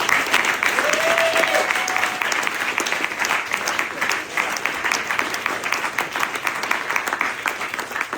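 An audience at an evening event at Beringia in Bozeman, Montana breaks into sustained applause, a dense, steady wash of many hands clapping, with a brief whistle near the start.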